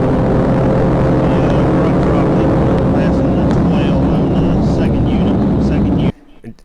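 A Suzuki Hayabusa motorcycle speeds flat out in a police chase, its engine a loud, steady roar with wind rush that holds for about six seconds before cutting off abruptly to near silence.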